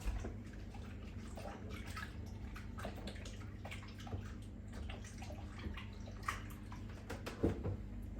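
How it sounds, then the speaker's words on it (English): Hands are washed under a steadily running tap, a continuous close rush and patter of water lasting several seconds, with one brief louder splash near the end and no speech. "Just wash my hands."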